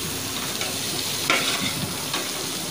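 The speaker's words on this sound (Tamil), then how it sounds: "நல்லா வதங்கட்டும், வதக்கிக்கலாம்." Mint, coriander and green chillies sautéing in a pan for mutton biryani, a close continuous sizzle with scraping stirs, and no voices.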